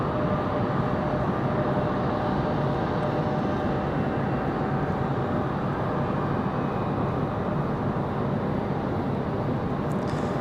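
An airliner takes off from Raleigh-Durham airport, a loud, steady engine roar that holds without a break from start to finish, with no talk.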